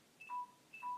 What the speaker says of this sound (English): that's my phone again